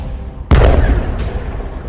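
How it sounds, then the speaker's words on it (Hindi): A missile strikes an Israeli Merkava tank at the Hanita border point, setting off one sudden loud explosive blast that rolls into a rumbling, decaying roar, with a fainter crack following about a second later. "यहां एक मिसाइल निकलती है और सीधे बॉर्डर पर खड़े इजरायल के मरकावा टैंक को फोड़ देती है।"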